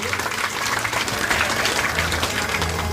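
A crowd at a spiritual discourse on puja applauds, with steady, sustained clapping that fills the room and a few voices mixed in.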